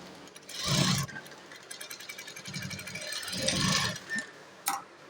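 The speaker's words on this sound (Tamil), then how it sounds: "இப்போ டபுள் ஸ்டிச்சஸ் நம்ம போட்டாச்சு" A sewing machine runs double rows of stitches along a blouse in two short mechanical bursts of rapid ticking and whirring, separated by quieter gaps and a faint click near the end.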